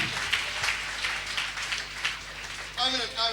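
Church congregation applauding and cheering to acclaim Jesus during a sermon, a steady broadband wash of clapping and voices throughout, with a brief rising shout or whistle near the end.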